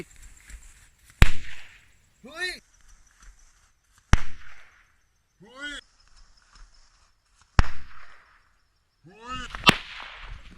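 Firecrackers are lit and set off in four sharp, isolated cracks a few seconds apart, each loud and close, with brief high chirping sounds between the bangs.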